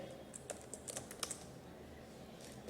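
Keystrokes on a computer keyboard as an SQL query is typed, a quiet run of irregular clicks in short bursts with a pause in the middle, alone without talk.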